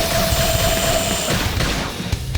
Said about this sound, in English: Beam barrage!